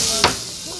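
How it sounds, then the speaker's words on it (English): Tacos on a hot plate at a food spot in Chisinau, Moldova, give off a steady close hissing sizzle with one brief louder crackle partway through. "it's still sizzling"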